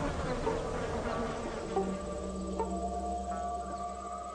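Flies buzz around a plant that smells of carrion, a continuous close insect drone with occasional rising whines as individual flies pass, steady and fairly quiet throughout.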